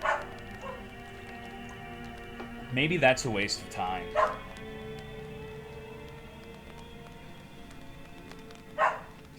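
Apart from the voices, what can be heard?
dog barking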